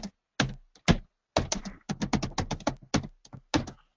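Typing on a computer keyboard during a legal research search, with sharp, close key clicks in irregular bursts and short pauses, alone without speech.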